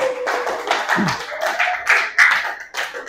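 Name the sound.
classroom clapping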